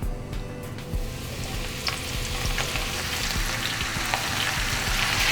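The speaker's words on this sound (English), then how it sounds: "The oil is around like 375 Fahrenheit, which is like the perfect temperature usually, like just to fry them." Food deep-fries in oil at 375 Fahrenheit with a loud, continuous crackling sizzle, dense bubbling and popping close up, and no speech.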